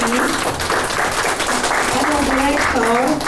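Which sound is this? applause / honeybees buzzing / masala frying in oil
applause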